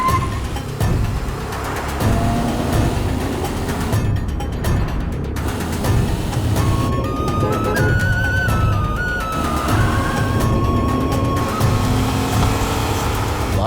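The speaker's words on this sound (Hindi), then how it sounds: "तुम्हारा बड़ा भाई तो बहुत तेज गाड़ी चला रहा है" A car driven very fast, its engine roaring loudly and continuously with rising and falling revs and occasional tyre squeal, close and intense throughout with no talk over it.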